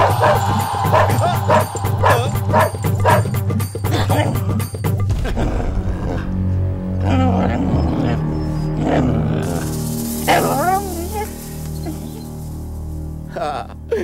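A dog barks in a rapid, loud run for about five seconds, then falls quiet as background music and a voice take over.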